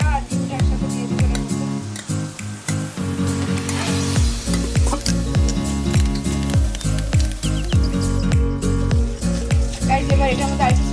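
Meat and egg sizzle and crackle together in a hot frying pan, a loud steady hiss broken by repeated rhythmic scraping strokes of stirring, close up throughout.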